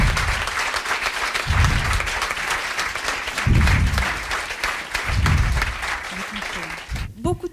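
Audience applause fills an award ceremony hall, steady dense clapping with some voices mixed in, ending in a few scattered claps.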